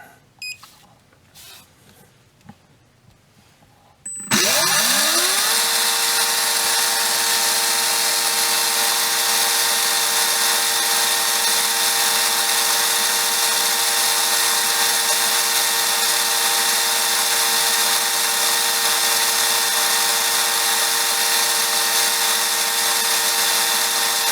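A Trinity 17.5T slot motor spins up on an RPM test after a few handling clicks, rising quickly into a loud, steady high-pitched whine that holds unbroken for about twenty seconds.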